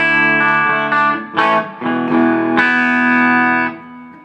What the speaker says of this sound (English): getting a little bit of distortion out of it.